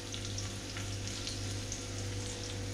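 Garlic cloves fry in a pan until golden before shrimp go in, giving a continuous fine crackling sizzle that stays soft and even throughout.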